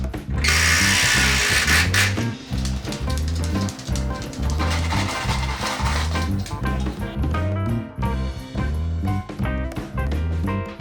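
A power drill drives screws into a wall frame, with repeated short whirring bursts in a steady rhythm, loud and close, each burst ending as a screw seats into the wood.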